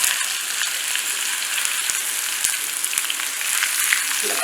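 Curry leaves and mustard seeds frying in hot oil for Kerala-style pumpkin thoran give a loud, continuous close sizzle with a few sharp pops and crackles.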